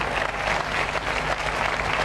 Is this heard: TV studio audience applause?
yes